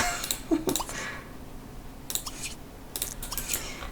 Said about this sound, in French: Il peut manger les croquettes du chat.